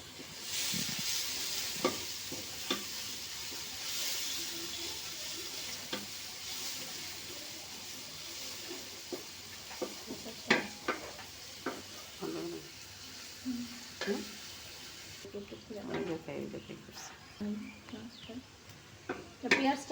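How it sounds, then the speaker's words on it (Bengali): Onions frying in a pan for a beef khichuri, a steady hissing sizzle with scattered stirring scrapes and clinks throughout, close and moderately loud, with brief voices now and then. "এখন আমি পেঁয়াজটা খুব সুন্দর করে ভেজে নিব।"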